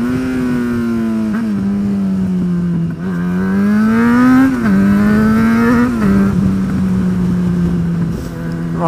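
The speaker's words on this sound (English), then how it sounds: "I'm going to decelerate a lot now." A motorcycle engine hums steadily under engine braking as the rider slows, its tone wavering and dipping in pitch with gear and throttle changes, close and loud against wind noise.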